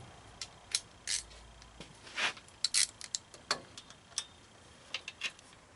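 A ratchet tightens a fitting during a head gasket replacement on a 2003 Honda Civic, giving sharp irregular clicks and ticks at close range over a quiet background.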